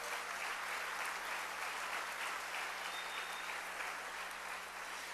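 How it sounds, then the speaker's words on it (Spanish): Steady, even applause from a congregation at a religious service, a continuous wash of many hands clapping at once, heard from some distance and fairly quiet, with no talk over it. "Dele un aplauso al Rey bendito"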